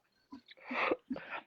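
A single person sneezes indoors, a short sharp burst with a quick intake beforehand and a breathy trailing release, fairly quiet and heard alone.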